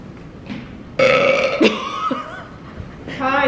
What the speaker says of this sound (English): I can burp on command, baby.